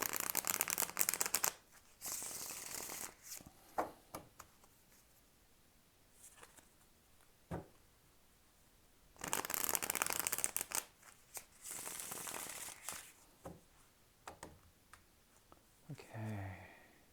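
A tarot deck is shuffled up close in several bursts of rapid riffling and flicking, with quiet gaps and soft handling between the bursts.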